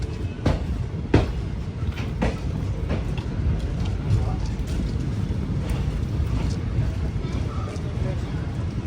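A Vijayapura to Mangaluru Central special train rumbles steadily into Mangaluru, heard from inside a sleeper-class coach, with sharp wheel clacks at intervals and people talking over the noise.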